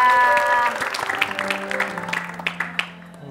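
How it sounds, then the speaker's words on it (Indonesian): Audience applause at an indoor event, a burst of clapping mixed with lingering tonal music that fades as the clapping thins toward the end. "tepuk tangan"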